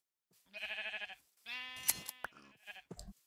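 Two drawn-out sheep bleats from a survival video game, the first wavering and clear, the second rougher and followed by a few short game clicks and rustles, with no talk.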